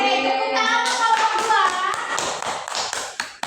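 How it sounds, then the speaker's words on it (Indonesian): Enthusiastic applause from a primary school class, a dense patter of many hands clapping steadily and fairly close, with faint voices mixed in. "tepuk tangan untuk kelompok"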